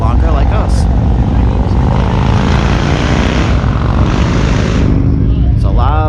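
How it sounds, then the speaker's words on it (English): Vehicles roar past on New Hampshire's Kancamagus Highway, loud and close, a dense engine rumble swelling through the middle before fading near the end, likely motorcycles. "There's a lot of motorcycles driving this highway today, so a lot of these videos are probably going to be noisy."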